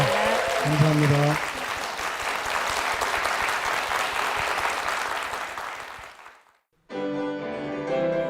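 Church congregation applauding loudly and steadily for about six seconds, the clapping fading out before a brief silence, then music begins.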